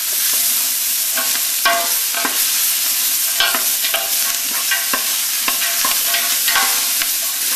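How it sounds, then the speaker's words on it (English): Seasonings being stirred into Creole gumbo in a really big pot, with a loud close sizzle and repeated spoon scrapes and clunks against the pot at an irregular rhythm, no talking. "you stir it up well"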